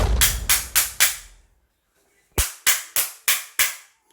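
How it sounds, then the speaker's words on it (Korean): A jukbi bamboo clapper is struck in two close, sharp bursts, four cracks, a pause, then five more, each loud and dry with a quick decay, and no talking. "이 죽비 소리가 들리시죠?"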